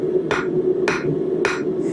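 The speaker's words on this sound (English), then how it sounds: "we want to hammer all 4 of the corners down evenly" Three evenly spaced hammer strikes ring out on the metal corners of a hand-made corkscrew being rounded, each blow sharp and close over a steady background hum.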